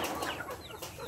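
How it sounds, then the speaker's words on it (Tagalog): Chickens and turkeys on a farm cluck in a short, fairly quiet burst, several birds calling over one another with no talk. "So yan po yung mga pabo natin, yung mga manok."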